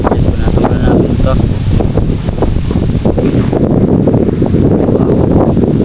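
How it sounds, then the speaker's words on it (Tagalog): Strong wind buffeting the microphone outdoors, a loud continuous rumbling roar with gusty surges throughout, and a voice talking under it. "lakas ng hangin na"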